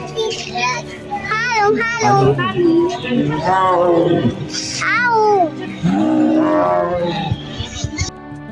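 A tiger roars at the Bangladesh National Zoo, loud and close, with children's voices and crowd chatter mixed in around it.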